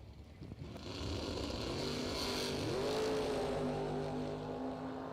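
A 1963 Corvette at a drag strip, its engine swelling from near silence into a sustained loud roar with a rising pitch sweep as it pulls away, then holding a steady high-revving drone.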